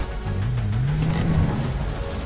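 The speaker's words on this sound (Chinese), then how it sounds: "轰响油门，" A car engine in the racing video game Racing Master revs up in one short, rising burst, loud and close, with no voices.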